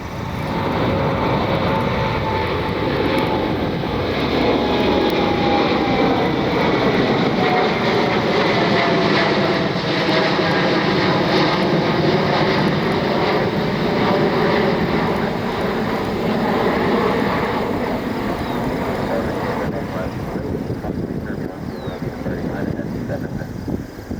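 A United Airlines Boeing 787 Dreamliner diverting to Cleveland Hopkins, its jet engines a loud, steady roar with a slowly shifting whine that holds for the whole stretch, close by and alone.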